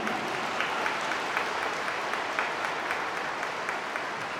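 Warm, even applause from an audience at a regional children's prayer-circle meeting in Krzeszów, a dense continuous patter of many clapping hands without talk.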